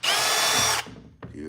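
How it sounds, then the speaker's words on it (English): A power drill bores a pilot hole for a brushed nickel door handle, running loud and steady for under a second before stopping, followed by a brief rattle and short low sounds. "The trick with drilling like that is just to go slow so that you don't pull out and push and dent in the face"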